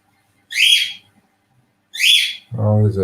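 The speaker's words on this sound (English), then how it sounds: "there's that bloody noisy bloody bird again" A noisy bird gives two sharp, high whistling calls about a second and a half apart, clear and fairly close, followed by a short burst of a voice.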